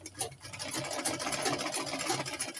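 A sewing machine runs steadily, stitching a straight line on an A-line dress with a smocked waist, giving a close, even, rapid mechanical whir with no pauses.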